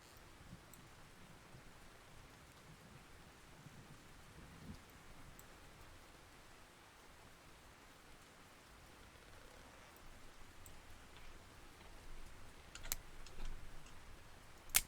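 In the fishing game Russian Fishing 4, a stormy scene on a Norway trip brings soft, steady rain pattering under strong wind. It stays faint and even throughout, with a few sharper clicks and a slight swell near the end.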